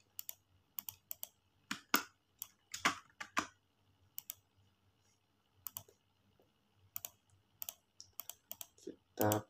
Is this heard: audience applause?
no